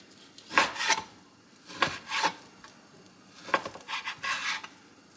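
A knife slices meat into small, even half-inch chunks for Texas chili, making several short scraping cuts against a cutting board in uneven bursts, close and fairly clear with no talking.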